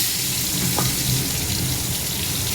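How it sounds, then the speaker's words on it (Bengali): Small crabs frying in hot oil, a steady dense sizzle that holds at an even loudness throughout, close up with no talking. "এখানে কাঁকড়গুলো ভেজে দিচ্ছে।"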